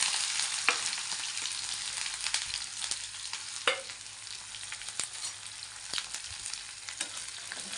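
Cumin seeds frying in hot oil in a pan, a steady bright sizzle with occasional sharper crackles and pops, close and alone with no talking.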